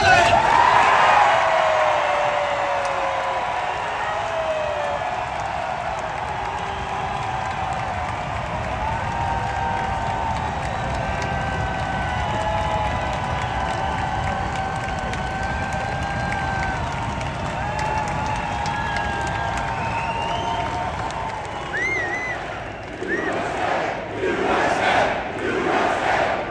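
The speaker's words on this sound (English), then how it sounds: "You can respond to this poll by your applause." A large crowd at a Trump rally in Bozeman, Montana applauds and cheers at length, a steady roar of clapping and shouting with whoops rising above it, swelling in bursts near the end.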